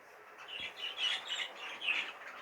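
Budgerigars chirp and twitter in quick bursts inside an aviary shed, a busy chatter of high tweets in a quiet enclosed space.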